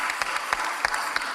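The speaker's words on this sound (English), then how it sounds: "Clapping for myself." A single person claps for themselves at a live December event, about five sharp, evenly spaced claps heard close and fairly loud over a faint room background.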